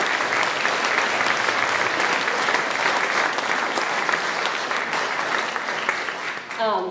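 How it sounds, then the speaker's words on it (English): Sustained applause from an audience at a middle school band concert, a dense steady clapping that holds strong for about six seconds before thinning out near the end. "So I think we should give them another round of applause for being awesome leaders."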